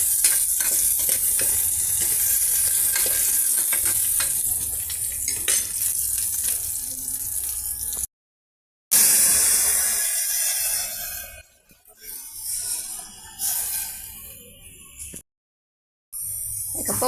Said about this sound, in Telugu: ఇక పోపు మసాలాలో మనం ఫిల్టర్ చేసి పక్కన పెట్టుకున్న మిరియాల రసాన్ని యాడ్ చేసేసామండి.